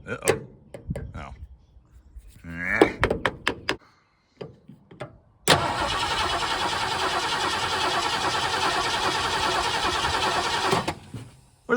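Engine of a 1973 Ford Mustang Fastback, left rotting in a yard for 30 years, cranks in one long continuous churning burst of about five seconds. It follows a few knocks and brief talk and stops abruptly.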